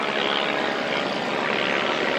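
A propeller-driven warbird aeroplane flies a slow, graceful display at an airshow, its engine a steady, broad drone that holds evenly loud throughout without any surge or change in pitch.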